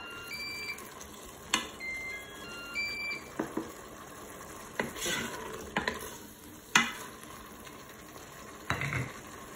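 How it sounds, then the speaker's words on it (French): Shrimp cook on browning mode in a Cookeo multicooker, giving a quiet sizzle. Irregular utensil scrapes and knocks against the pot come through, along with a few faint electronic beeps and tones early on. "je vais laisser cuire mes crevettes tranquillement"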